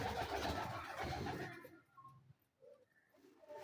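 A sturdy female pigeon kept as a home loft bird gives soft, low coos after a burst of close rustling and handling noise, then quieter scattered calls in a hushed room.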